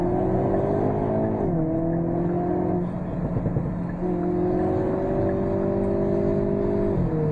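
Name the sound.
Hyundai Kona N 2.0 T-GDI engine revving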